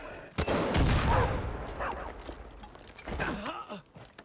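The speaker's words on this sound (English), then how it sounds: "It's too fast for me to shoot, so I switch out to the RPG for the guaranteed kill." A rocket launcher fires in Far Cry 5, a sharp loud blast followed by a long rumbling explosion tail that fades over several seconds, with a few later thumps and a brief groan-like voice near the end.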